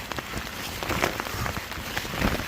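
Heavy rain pours steadily, a dense broadband hiss of drops hammering a surface nearby, with no voices.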